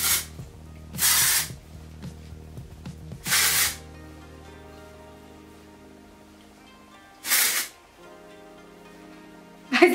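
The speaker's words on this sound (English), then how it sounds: "this is the IGK Beach Club Volumizing Texture Spray" IGK Beach Club Volumizing Texture Spray sprayed onto hair in three short hissing bursts close to the microphone, separated by quieter pauses with light handling sounds.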